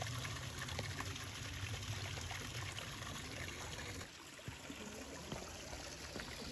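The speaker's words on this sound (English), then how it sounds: "Nice little waterfall." A small waterfall and stream on a mountain hiking trail flow and trickle steadily at a low level, a continuous splashing stream with small spatters, soft and unbroken throughout.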